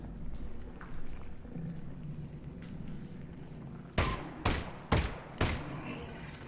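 Pistol gunshots in the VR game Half-Life: Alyx, four sharp cracks in quick succession near the end, following several seconds of low rumbling game ambience.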